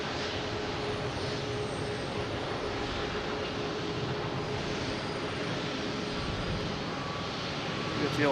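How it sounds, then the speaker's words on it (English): An Alaska Airlines airliner arriving at Boston Logan Airport from Portland, a continuous jet-engine roar at a constant moderate level that swells louder in the final moment. "We got the Alaska Airlines here coming in from Portland."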